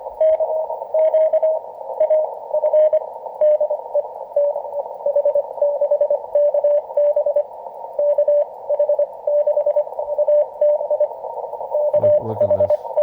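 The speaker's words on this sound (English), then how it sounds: "And look at these noise spikes. They become more and more prevalent closer to midnight." A Yaesu FTdx10 receiver picks up interference, a narrow continuous tone broken by rapid pulsing noise spikes, loud and steady throughout, with a brief low rumble near the end.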